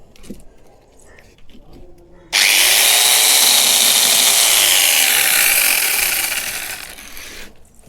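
A homemade chainsaw machine roars to life and cuts loudly and steadily for several seconds, then tapers off, following a few quieter clatters and handling sounds.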